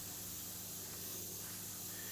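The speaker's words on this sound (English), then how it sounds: "just lift your template up off the surface a little bit and that'll give you a softer spray" An airbrush sprays paint steadily past a freehand template lifted slightly off the surface, giving a continuous soft, faint hiss with no pauses.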